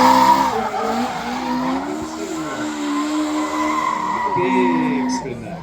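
A car spins out and skids across grass at a motoring event by the moat of Leeds Castle in Kent, the engine revving and wailing in rising and falling sweeps with tyre noise, while a commentator talks over it.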